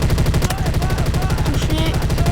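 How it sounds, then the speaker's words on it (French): A video game turret fires a rapid, unbroken stream of bullets, each shot in a fast even rhythm, loud and close, with faint voices underneath. "Elle est incroyable la tourelle parce qu'on peut tirer plein de balles."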